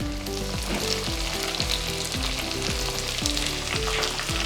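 Long-sliced medium onions hit a pan of fried coconut for a Kerala pork fry, giving a steady, close frying sizzle throughout with a repeating musical tone underneath and no talking.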